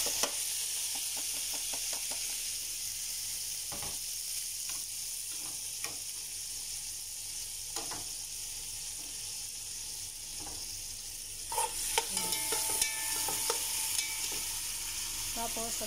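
Tomatoes frying in a pan for a seafood dish, a steady, moderately quiet sizzle with scattered scrapes and taps of stirring, growing busier and louder toward the end.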